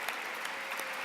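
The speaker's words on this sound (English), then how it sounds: "please join us in applauding Michael Adams" An audience at an evening awards gala applauds an honoree, steady dense clapping filling the room without pause, loud and continuous throughout.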